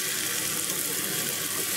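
Water pours steadily into a pan of potato and chickpea masala, making a continuous splashing rush for a couple of seconds with no talk over it.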